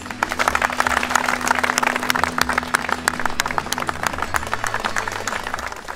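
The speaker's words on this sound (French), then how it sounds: "C'est Charles Pochon que je vous demande d'applaudir." A crowd applauds steadily at a pike fishing competition prize ceremony, dense clapping going on throughout with a low hum and some murmuring underneath.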